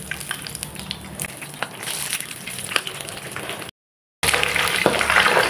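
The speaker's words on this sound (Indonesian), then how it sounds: "lalu kita goreng lagi yang sisanya tadi" Corn ribs bubble and sizzle in hot oil, a busy crackling fry that cuts out briefly and then returns louder, with no talking heard.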